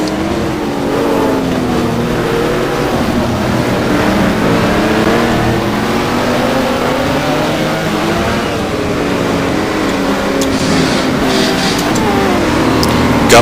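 GT1 race cars, a Maserati among them, lapping at Monza, a loud continuous engine roar with shifting revs and overlapping cars, no talking heard.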